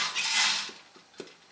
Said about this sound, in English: That's the popping. And you can hear the frequency is picking up.